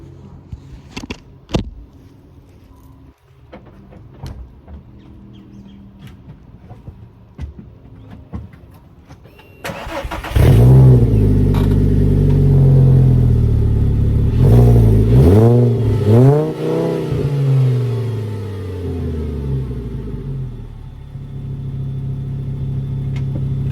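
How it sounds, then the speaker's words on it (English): An idle rumble with faint clatter, then a car with an aftermarket exhaust fires up around ten seconds in and revs loudly several times before settling into a throaty idle. "So I'm just gonna put the phone down underneath the exhaust and see if you can hear it."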